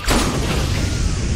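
An exploding ball in the action game Blades of Time, a sudden loud booming blast with a broad rumbling roar that sustains at full strength to the end.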